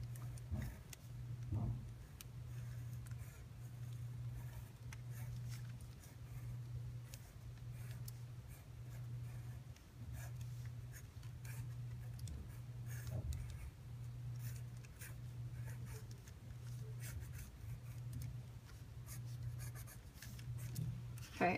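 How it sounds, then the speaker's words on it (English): A pencil pressed hard traces over lines on paper, making faint, continuous scratchy strokes over a steady, pulsing low hum. "I'm going to trace over my lines, pressing pretty hard"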